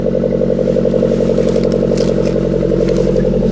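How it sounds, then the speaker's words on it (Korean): A loud, steady engine drone with a throbbing low exhaust rumble, continuous throughout, heard from inside a Suzuki Jimny Sierra. "배기음이 밖에서 듣는 거랑 틀리네요"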